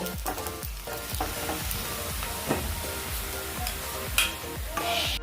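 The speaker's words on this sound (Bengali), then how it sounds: "পেঁয়াজ লালচে করে ভেজে নেওয়া হয়ে গেছে। এবার পেঁয়াজ ভাজাগুলো একটি হাতার সাহায্যে আমি তুলে নেব।" Onions fried until reddish sizzle close by in a pan, with repeated clinks and scrapes as a ladle stirs and lifts them out, and no talking.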